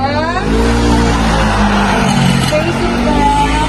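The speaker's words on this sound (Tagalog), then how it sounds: "Napakaingay kasi nga ang dami dumadaan" Steady, loud roar of traffic on a busy provincial road, heard from a house balcony facing it, with vehicles rushing past continuously and wind noise mixed in.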